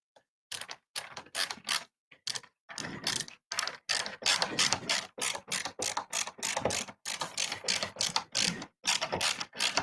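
Small E screws being driven into the bezel of an arcade cabinet, a fast run of dense ratcheting clicks in short bursts with brief pauses, close and moderately loud, with no talking.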